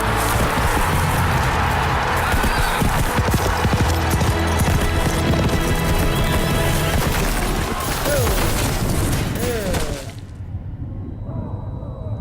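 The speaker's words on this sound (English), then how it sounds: "Giddy up, Peanut." Hooves clip-clop in a loud, rapid, steady rhythm as a horse moves, with bangs and rumbling mixed in, then the sound drops away abruptly near the end.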